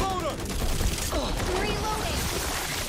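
Gunfire and explosions rattle through a Back 4 Blood match, a dense stream of rapid shots and bursts, with a close blast under scattered game sounds and a voice talking over it.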